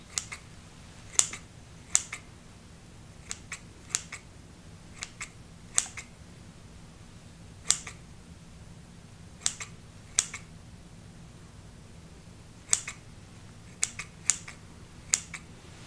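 Scissors snipping in a barber-shop style ASMR trigger, sharp isolated clicks scattered irregularly, sometimes in quick pairs, close and crisp over a faint low hum.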